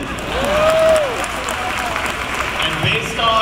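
Audience at a fan expo panel for The Office clapping, with applause swelling briefly and then settling into a lighter patter, while someone talks over the crowd.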